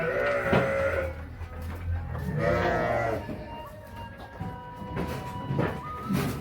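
Garut sheep in a breeding pen, five ewes with one ram, bleat repeatedly and loudly, several overlapping calls from close by over steady barn noise.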